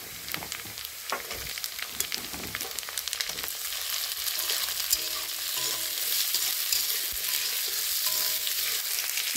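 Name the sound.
cut potatoes frying and being stirred in oil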